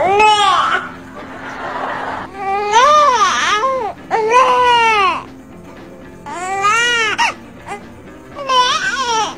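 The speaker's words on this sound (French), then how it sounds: "Le premier son est « neh » qui signifie « j'ai faim »." A baby cries in repeated wailing bursts, each a second or so long with short breaths between, loud and close with no other voices, a hungry infant's "neh"-type cry.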